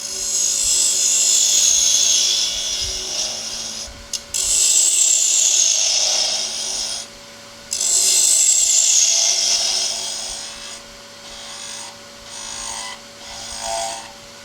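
A bowl gouge chatters against wood spinning on a lathe, producing close, high whining bursts that rise and fade in several passes separated by short pauses.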